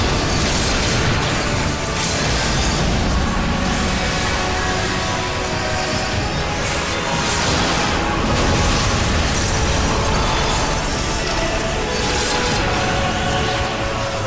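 Dense, continuous explosion effects fill a Final Fantasy XIV raid battle on PS4, with loud overlapping blasts and crashing bursts that pile up without a break.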